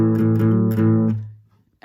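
Electric guitar playing the distorted, overdriven intro riff of a song: a few loud, gritty chord stabs ringing together and fading out, then a short new attack at the end.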